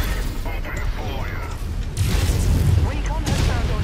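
Enemy artillery in the MechWarrior 5 mech combat game lands as deep, rumbling booms under steady mechanical game noise, growing heavier midway, with a voice talking over it.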